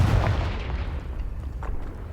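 A Confringo spell blast in a video game: one loud booming burst at the start that decays into a rumbling tail, with a second softer thud shortly after.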